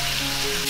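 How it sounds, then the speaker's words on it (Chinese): Pork ribs, cut into large chunks, dry-fry in a pan with no oil for a nanru pork ribs dish, giving a brief, steady close-up sizzle with no talk. "锅里先不要放油，把排骨放进来煎干水分。"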